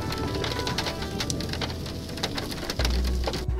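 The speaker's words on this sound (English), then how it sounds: "there's a lot of rain beginning to fall between me and the updraft" Rain falling during a supercell storm in the Texas Panhandle, a dense, steady patter of drops on surfaces with a heavy low rumble near the end, loud and close, with no talking.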